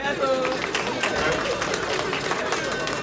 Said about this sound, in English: I want to give a thunderous round of applause to the wonderful DJ